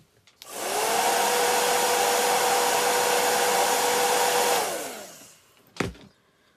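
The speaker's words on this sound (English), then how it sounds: "Your hair dryer is your friend when you want to go really fast" A hair dryer whirs steadily at full blast for about four seconds, then winds down, followed by a brief click.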